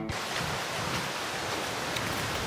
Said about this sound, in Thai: ตอนนี้เราได้ยินเสียงน้ำตกครับ